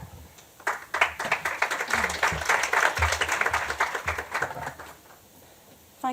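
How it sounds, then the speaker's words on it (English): An audience at a policy engagement talk claps steadily for several seconds as a speaker is handed over to, fairly close and dense, the applause fading out near the end with no talk over it. "Thanks for clapping before I've said anything"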